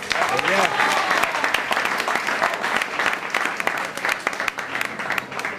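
Warm audience applause for a blues musician at a live blues show, dense, steady clapping that holds loud throughout with a few sharper claps near the end.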